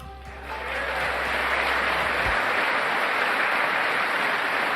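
Loud, sustained audience applause at a political speech, building within the first second into a dense, steady wash of clapping that carries on to the end.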